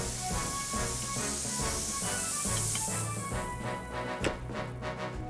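A cartoon fire hose sprays water onto a mountain grass fire, a loud steady hiss of spray running for several seconds over dense background music, thinning out near the end.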